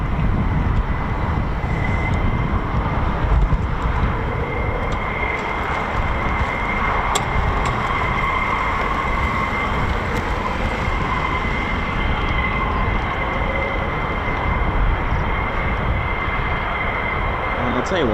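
F-16 fighter jets powered by Pratt & Whitney F100 engines pass during Exercise Cobra Warrior at RAF Waddington, a steady, moderately loud, broad jet rumble and roar that holds without a break.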